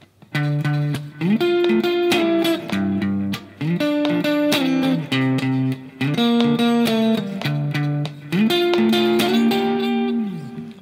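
A clean electric guitar strums chords in repeating rhythmic phrases with short pauses between, bright and close, with no voices.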